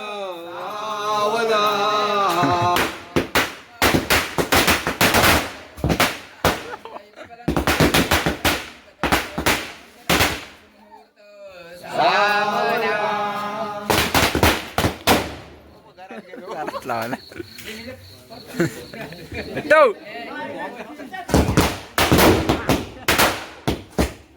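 Firecrackers burst at a Tulsi wedding celebration in 2024: rapid crackling strings of loud bangs like gunfire come in several bursts, with a person talking in the gaps between them.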